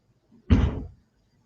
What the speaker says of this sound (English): it's a car door or a trunk. Something is closing.